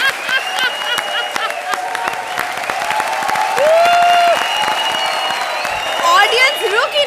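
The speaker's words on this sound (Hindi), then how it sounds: "ऑडियंस रुक ही नहीं रही है, तालियों की बरसात हो रही है" Studio audience at an Indian TV comedy show breaking into sustained clapping and cheering, steady and fairly loud throughout, with scattered whoops and voices mixed in and a brief tonal sweep partway through.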